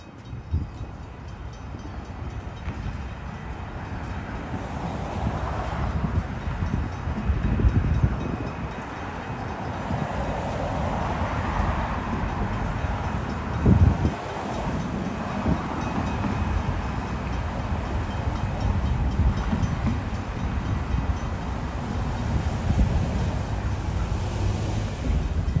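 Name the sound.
Amtrak train approaching and passing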